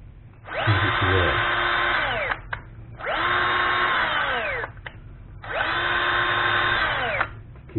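A Bosch GSB 1080-2-Li cordless drill runs at its faster second speed with a high, steady whine in three bursts of about two seconds each, each spinning up and winding down, close and loud.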